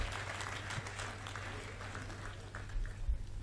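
An audience at a poetry gathering on the Dussehra grounds in Indore claps steadily, a dense, distant wash of applause that holds throughout and swells slightly near the end.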